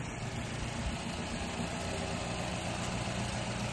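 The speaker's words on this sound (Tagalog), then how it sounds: "Kasi palyado yung makina." A Mazda CX-7 engine idles roughly with a misfire, a steady low rumble that goes on without a break, close and fairly loud, with no voices.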